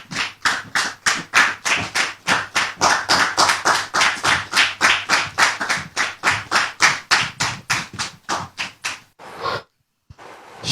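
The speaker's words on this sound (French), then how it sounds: "Très cher public, je vous demande de la recevoir ici et maintenant sous vos applaudissements" Rhythmic, unison clapping welcoming a guest on stage, loud evenly spaced claps, about three per second, continuing for around nine seconds before stopping abruptly.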